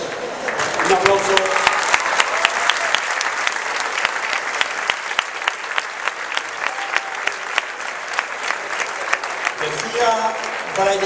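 Applause from the audience at a summer concert given by a wind band and choir, with sharp individual claps standing out over dense clapping before the music resumes briefly near the end.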